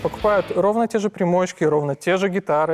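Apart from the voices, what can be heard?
None of the usual background noises is heard.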